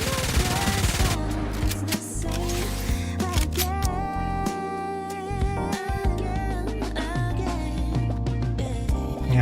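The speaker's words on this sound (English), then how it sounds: "He has a machine gun thing going on." Goddess of Victory: NIKKE gameplay with loud, choppy bursts of machine-gun-like fire mixed with game music and effects, clattering rhythmically throughout.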